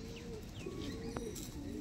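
Kasuri kalsira pigeons cooing softly in a steady low murmur, with faint chirps and a short click partway through.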